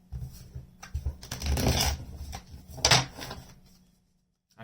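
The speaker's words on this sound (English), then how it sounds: "Let's get one more shuffle here." Tarot cards being shuffled by hand, a run of soft riffling and slapping bursts close to the listener, with a short pause before the final pass and no talk over it.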